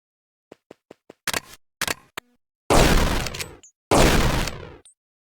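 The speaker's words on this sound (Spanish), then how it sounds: "Va a volver a disparar para pegarle al segundo objetivo y recién después va a guardar el arma." Gunfire from the video game Superfighters Deluxe: several sharp single clicks and shots first, then two loud booming bursts that each ring out and decay into silence.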